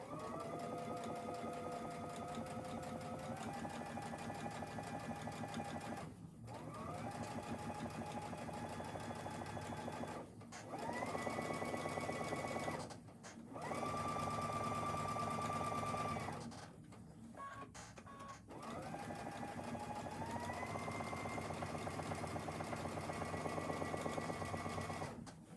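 A sewing machine runs in long steady bursts, back stitching and top stitching an apron, its motor pitch rising as it speeds up, with brief pauses between runs.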